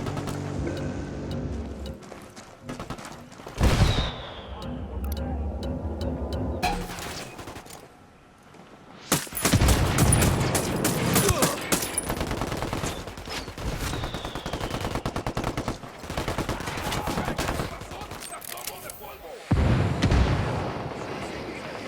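Gunfire in the tactical shooter game Ghost Recon Wildlands, with loud bursts of shots and blasts crowding the mix, some pauses between volleys and game voices occasionally under the shooting.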